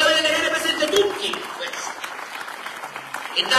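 Applause from an audience at an Italian political campaign event, a dense burst of clapping that continues for several seconds and gradually thins.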